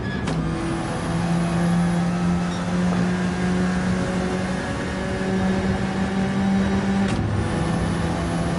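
An Alfa Romeo 4C race car in Gran Turismo 7 holds a steady, droning engine note through the whole stretch, with a brief sharp burst near the start and another near the end.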